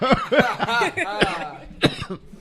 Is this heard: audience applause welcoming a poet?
no